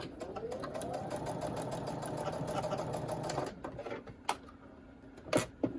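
Sewing machine basting a seam on a wrist sling, running steadily for about three and a half seconds before stopping, followed by a few faint clicks and handling sounds.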